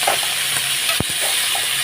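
Potatoes frying in hot oil with kalonji and dried chilli, a continuous loud sizzle with a sharp stir or knock of a spatula near the middle.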